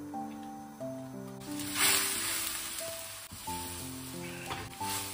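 Shredded radish stir-fried in a small pan gives a steady soft sizzle with faint stirring scrapes, running under background music with little talk.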